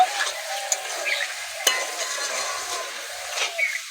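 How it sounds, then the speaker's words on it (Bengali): Fried potatoes and soybean chunks being sautéed with spices in a pan, a soft sizzle under scattered clinks and scrapes of a stirring spoon, close by and fairly quiet, no talking. "আলু আর সয়াবিনটা ভালো করে মশলার সঙ্গে কষিয়ে নেব।"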